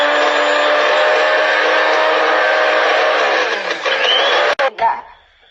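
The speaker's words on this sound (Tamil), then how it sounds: "இப்போ நம்ம ஹைபிஸ்கஸ் பெட்டல்ஸ அரைக்க போறோம்." A mixer grinder grinds finely cut hibiscus petals with a loud, steady motor whine that holds for over four seconds before cutting off abruptly, with a couple of short clicks and a brief restart at the end.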